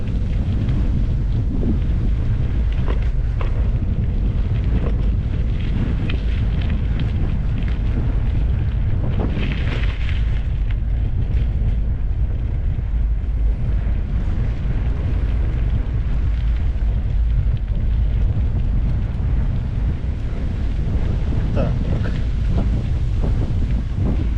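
Steady wind buffeting a microphone while cycling through city streets in Poltava, a continuous loud rumbling roar with gusty fluctuations throughout, no voices.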